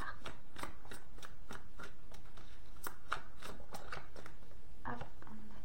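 Tarot cards being shuffled and drawn, a run of crisp flicks and slaps of cards close up, evenly paced, then a short pause before a final few snaps.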